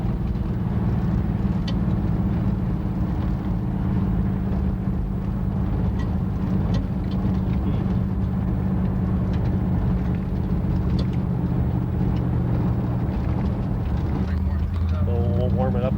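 An old car's engine runs steadily in high gear while driving, a loud constant low drone and road rumble heard from inside the cabin, with people talking over it.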